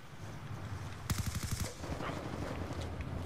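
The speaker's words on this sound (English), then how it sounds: "I got hit with that sentry gun up there" A sentry gun firing in Black Ops 2 lets off a rapid burst of about a dozen evenly spaced shots that is fairly loud and close, then trails into softer, more distant scattered fire over a low background rumble.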